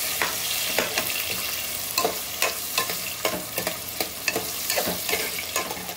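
Onions, green chilies and curry leaves fry in hot oil with a loud, steady sizzle, while a utensil scrapes and stirs through them in regular strokes about every half second.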